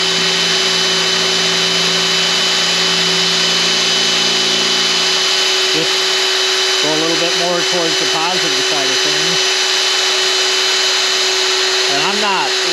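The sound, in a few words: Drill Doctor sharpening a drill bit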